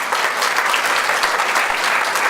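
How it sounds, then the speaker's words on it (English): An audience at a scholar-athlete awards ceremony claps for the parents, a loud, dense, sustained applause filling the room throughout. "Give them a round of applause, please."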